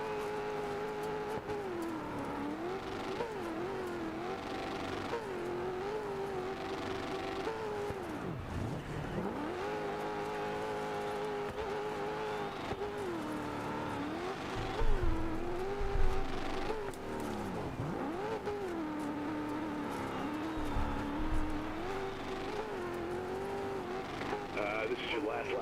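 A rally car in the racing game Dirt 4 drones through a steady engine note with rises and dips as it revs and shifts, and tires scrub and squeal now and then, while someone talks over it throughout.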